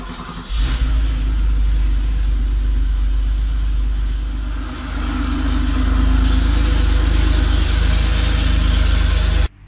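A car engine cranks and catches after a brief pause, then settles into a loud, steady idle close by with a slight swell in revs partway through and no talking.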